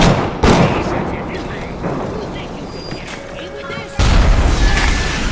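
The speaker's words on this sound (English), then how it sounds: "Alright, so that's the rocket turret." Rocket turret firing in Bioshock, heavy booming blasts and explosions, two loud hits with rumbling decay between them, loud and close, with a voice talking over them.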